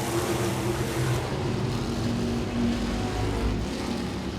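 Modified race cars circle Langley Speedway in a continuous blended engine roar that swells and fades slightly as the pack passes, heard from a distance with no voices.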